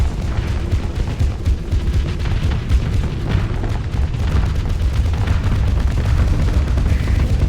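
Suppression missiles exploding during a Starsector space battle: a dense, continuous rumble of overlapping low booms and bursts, loud and sustained with no pauses or speech.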